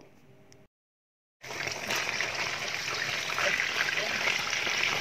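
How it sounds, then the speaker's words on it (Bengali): Chicken pieces fry lightly in hot oil for a chicken roast. A faint murmur gives way to a short silence, then a close, steady crackling sizzle fills the rest. "এখন আমি চিকেনগুলোকে তেলে হালকা করে ভেজে নেব।"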